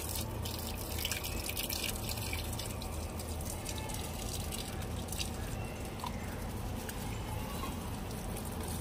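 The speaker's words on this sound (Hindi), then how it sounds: "ये आपके सामने पानी डालती हूँ।" Water poured onto three freshly planted madhukamini cuttings set in aloe vera, a steady close splashing and trickling that runs without break for the whole stretch.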